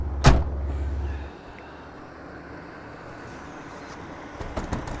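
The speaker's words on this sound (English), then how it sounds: "Shut the door." A single solid door slam from a cheap 1970s car near the start, followed by a low steady rumble and quiet background, with faint clicks near the end.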